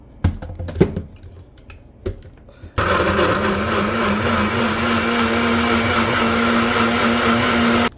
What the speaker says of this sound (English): If you have a blender, you can put it on blend.